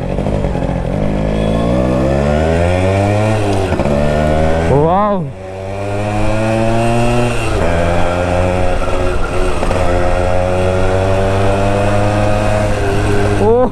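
A Yamaha RX135 two-stroke motorcycle being ridden, its engine and exhaust droning loud and close with a steady buzzing note, one brief throttle dip and rev swell midway, and faint talk underneath.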